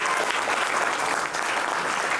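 A crowd at a GSRC Industries mega event in Barabanki claps steadily and loudly for a product, a continuous wash of applause with no pause.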